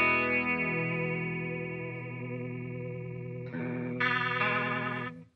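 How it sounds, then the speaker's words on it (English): Electric guitar played through an MXR stereo chorus pedal, sustained chords shimmering with a wavering, detuned chorus sweep that changes as new notes enter near the end, fairly quiet and without voices. "MXR stereo chorus"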